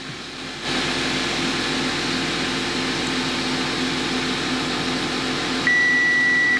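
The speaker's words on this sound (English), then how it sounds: "So that is the warning sign that it gives me." Audi Q7 warning chime inside the car: a steady cabin hum and ventilation drone, then a single sustained electronic beep near the end, close and clear with no talking.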